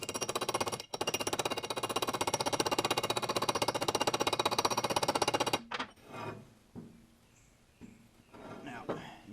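Rapid rhythmic metallic blows hammer a chisel against a front wheel bearing race on a Corporate 10 Bolt/Dana 44 axle, a loud continuous rattle that stops abruptly, followed by a few scattered knocks.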